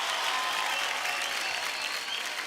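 A studio audience on Indian Idol applauds a singer after her soulful performance of a song, a loud, dense burst of crowd clapping that stays full and steady throughout.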